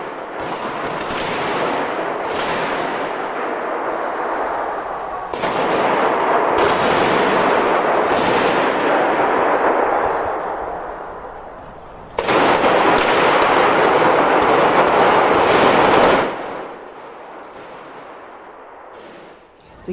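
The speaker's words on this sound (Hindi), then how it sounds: "ये गोलियों की आवाज़ जो है, अंधाधुंध फायरिंग हुई है" Indiscriminate gunfire during the Moscow terror attack, rapid bursts of shots crackling in long volleys with brief pauses, echoing and fairly loud, recorded from some distance with no clear talk.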